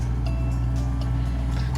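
A tractor engine runs steadily at a worksite rebuilding a stone wall, a loud, continuous low droning hum with faint higher clanks on top, close by and without talk.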